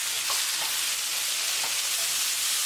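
Green chili tadka for beef curry sizzles steadily in a pan as it is stirred, a continuous dense frying hiss with faint scraping from the spoon, close and even, with no talking.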